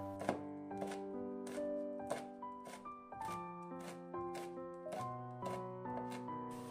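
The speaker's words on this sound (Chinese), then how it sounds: "准备一把小葱切成葱花，2个小米椒给它切成小圈" A knife chops scallions and small chili peppers on a cutting board in a steady run of quick cuts, with background music playing throughout.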